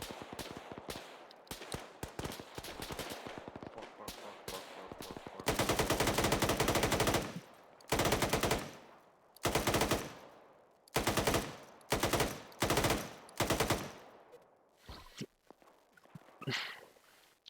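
Machine gun fire in the video game Arma 3, long sustained automatic bursts alternating with shorter rattling volleys, loud and close, with scattered single shots and movement in between and no talking.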